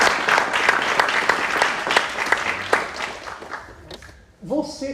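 Men and women in a church congregation clap together in a youth Mass homily setting, a dense burst of many hands lasting about four seconds before fading, followed by a voice speaking.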